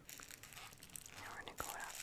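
Tissue paper crinkles softly while being folded around a gift, with faint rustles and crisp crackles mixed with quiet whispering close to the microphone.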